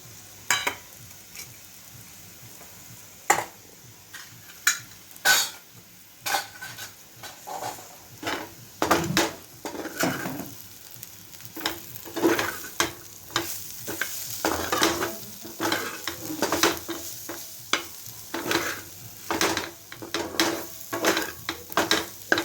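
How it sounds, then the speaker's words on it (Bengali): A spatula stirs spices and chopped chilli through hot frying oil in a pan while making chal bhaja. Close, repeated scraping strokes ride over a steady sizzle, with no talking. "এটাকে একটু নাড়িয়ে চাড়িয়ে নিয়েছি মশলাটাকে"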